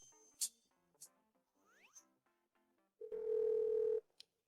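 Telephone call being placed, with a few faint key tones and electronic blips, then a loud steady ringback tone for about a second, heard close with no voices.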